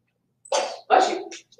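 A person sneezes during a chemistry lecture on skeletal structures, a two-part burst with a short sharp onset and then a louder main sneeze, fairly close and clear in an otherwise quiet room.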